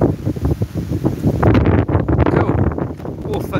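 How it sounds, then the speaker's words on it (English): Gusty wind blowing outdoors, buffeting the microphone in loud surging rushes with rustling, while a person talks. "Oh, that's windy, eh?"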